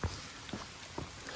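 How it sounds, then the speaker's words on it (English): Rain falls on leaves along a forest section of the Appalachian Trail, a soft steady patter broken by a few louder drops landing close by. "It's raining pretty good."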